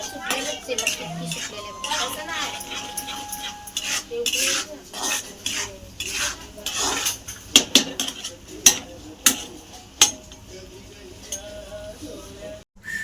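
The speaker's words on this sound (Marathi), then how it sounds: "बघा आपला मसाला तळत आला त्याला तेल सुटतंय" Masala for a fish curry frying in oil in a pan, stirred with a utensil: irregular scraping and clinking strokes against the pan that grow sharper and louder toward the end.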